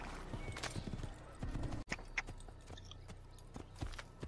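Hooves clip-clop in a steady rapid rhythm as a black horse gallops in Assassin's Creed, loud and close, with a brief dropout midway and some faint game noise around it.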